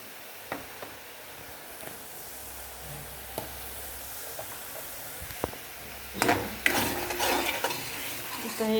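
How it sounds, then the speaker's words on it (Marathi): Spices such as turmeric, chili powder and garam masala being stirred into okra in a pan, with quiet scraping and light clinks of the utensil, growing into louder scraping and a soft sizzle toward the end. "आता हे मिक्स करूया."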